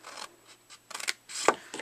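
Scissors cut a scored paper gable box along its score lines in several short, close snips with brief pauses between them, quiet and without speech.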